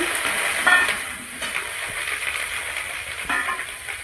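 Cauliflower frying in a pan with onions and five-spice makes a continuous close sizzle, broken by a few brief scraping stirs and light clatters.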